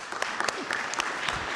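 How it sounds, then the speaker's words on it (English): An audience at an annual general meeting applauds after a finance report, giving steady, moderately close clapping for its whole short length, with a faint voice underneath. "Can I say it's very rare for a finance guy to get applause."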